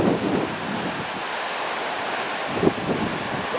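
Mountain torrent rushing through a gap between two mountains, a constant broadband roar of flowing water with wind noise, no talking.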